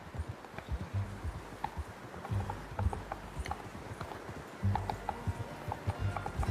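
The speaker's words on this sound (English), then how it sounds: "How's that new horse?" Horse hooves clip-clopping in Red Dead Redemption 2, a steady walking rhythm of moderate, fairly close hoofbeats over a faint outdoor backdrop, with no talk.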